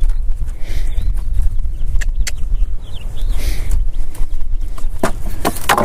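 A horse steps carefully through a riding obstacle, its hooves making irregular clip-clop thuds and scuffs close by against outdoor background noise.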